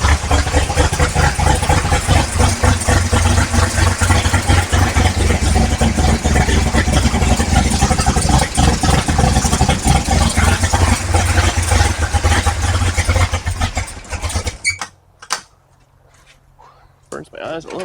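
A 1955 Chevy big block V8 idles fast at its first start, a steady loud rumble with people talking over it, the engine cutting out near the end to leave a quieter tail.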